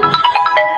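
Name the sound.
phone ringtone of incoming call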